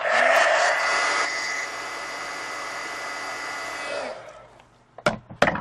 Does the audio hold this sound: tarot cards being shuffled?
no